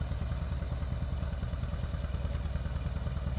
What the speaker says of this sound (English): the star of the show, Daddy Milestones and his 730 John Deere tractor.